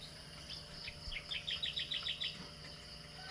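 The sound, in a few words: birds calling in the rain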